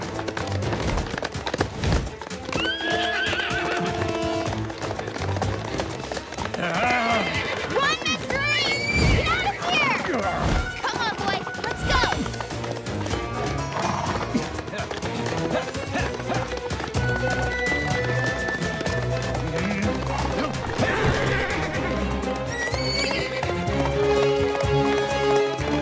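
A horse galloping and neighing in an animated series, with hoofbeats and whinnies running under continuous music and sound effects for the whole stretch.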